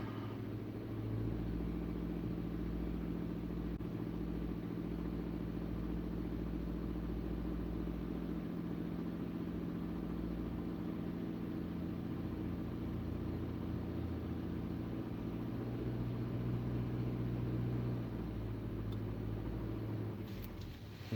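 The engine of a 2011 GMC Terrain idles with a steady, low, droning rumble. It runs continuously throughout at an even level, with no talk over it.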